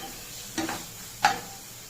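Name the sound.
tomatoes and onions sautéing in a pan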